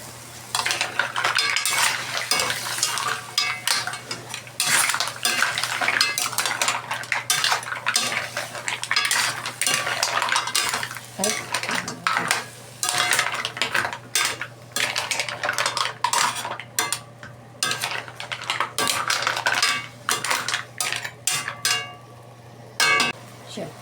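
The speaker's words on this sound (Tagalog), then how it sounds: "Nalaglag yung sandok ko." Metal utensils clatter and scrape against a pan while mussels are sautéed, with steady stirring, knocks and a sharp metal ladle drop amid ongoing kitchen clinks, close and fairly loud.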